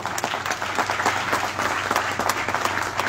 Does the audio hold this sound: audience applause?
yes